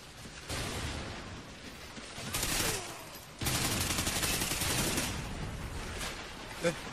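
Rapid automatic gunfire crackles in repeated bursts during a Call of Duty: Ghosts Blitz match on the Free Fall map, with a short pause between volleys.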